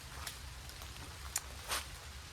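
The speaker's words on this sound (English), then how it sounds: "the rain is coming down" Rain falls on a cold campsite on Blake Island as a steady soft hiss, with a few sharper drops tapping nearby over a low background rumble.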